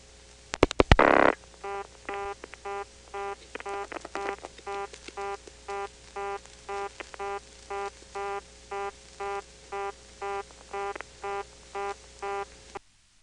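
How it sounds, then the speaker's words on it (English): A digit dialed on a senderized step-by-step telephone exchange from August 1977: a burst of clicks and a loud switching noise, then a long run of evenly spaced repeating tone pulses on the line. "Let's dial another digit."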